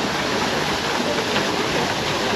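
The Merlion fountain in Singapore sends out a steady, unbroken rush of falling, splashing water, close and fairly loud, with no pauses or voices.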